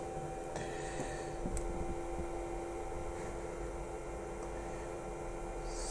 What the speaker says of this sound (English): There is a fan inside, you can probably hear that.